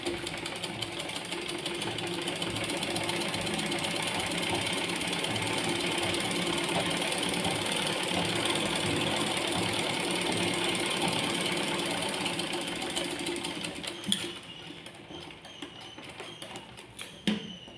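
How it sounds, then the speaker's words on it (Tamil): Sewing machine stitching blind tucks in fabric, a fast steady mechanical whir and rattle running continuously for about fourteen seconds before stopping, followed by a few soft handling clicks. "நான் இப்போ கரெக்டாக அந்த 1/4 அளவுக்கு வச்சு உங்களுக்கு நான் ஸ்டிச் பண்ண போகிறேன்."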